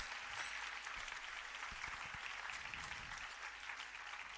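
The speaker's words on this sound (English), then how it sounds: "Can we have a louder round of applause?" An audience claps at a Bharatanatyam arangetram recital, producing dense, sustained applause that fills the hall evenly for several seconds, loud and close with no talk over it.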